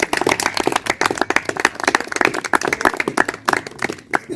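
Audience applause at a Youth Day career exhibition, a burst of close, uneven hand claps that stays loud and busy throughout before thinning toward the end.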